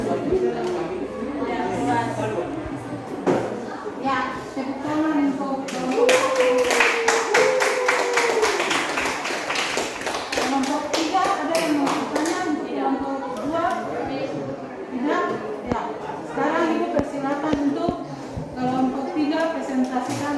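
Classroom clapping from students, a burst of many hands around the middle rising over ongoing talk and children's voices, with scattered claps trailing off later.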